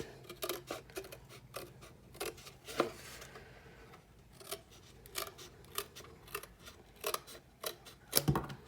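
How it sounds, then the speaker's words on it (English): Scissors snip through paper repeatedly in a quiet room, a series of close, crisp cuts with short pauses between them. "scissors and we'll finish cutting that."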